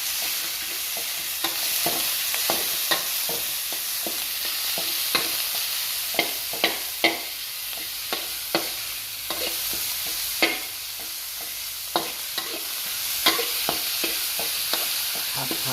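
Long green eggplant and minced pork stir-fried in a pan: a constant loud sizzle broken by repeated sharp scrapes and clacks of the spatula at an uneven pace, close up, with no talk.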